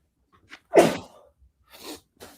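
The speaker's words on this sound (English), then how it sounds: "I just had to sneeze" A single loud sneeze from a podcaster on an online stream, a sharp burst with a brief trailing breath, followed by a couple of faint soft sounds.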